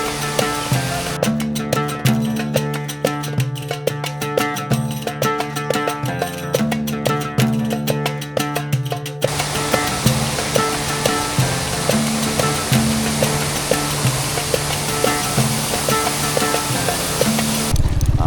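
Dhani Waterfall in Kashmir's Neelum Valley pours down from a great height with a steady, dense roar of falling water. A rhythmic musical layer sits over it in the first half, and the water then continues alone.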